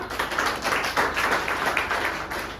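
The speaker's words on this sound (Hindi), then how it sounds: "उतारे एक बार जोरदार तालियां" An audience at a business seminar claps together, a dense, even patter of many hands holding steady for a few seconds, moderately loud with no voices over it.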